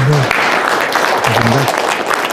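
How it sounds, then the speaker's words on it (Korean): An audience at the 82nd Shared Growth Forum gives a speaker a round of applause. The clapping is close, dense and continuous, with a voice speaking over it. "서강석 대표님께 박수 한번 더 주시겠습니다."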